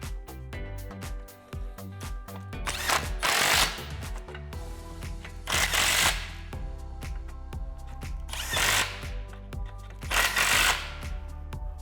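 Power tool driving exhaust clamp bolts on the X-pipe of a 2015-2017 Mustang GT Magnaflow cat-back exhaust, with four loud bursts of ratcheting at a steady pace amid mechanical clatter, close by and with no talking.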